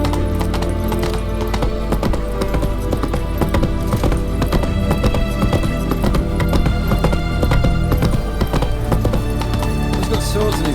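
Horse hooves gallop in The Witcher 3 video game, a fast, loud, continuous clip-clop under dense game sound and music with an occasional snort.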